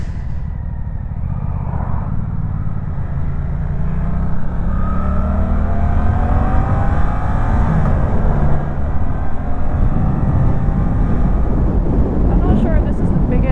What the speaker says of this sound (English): I'm not sure if this is the biggest parallel twin bike that I've ever ridden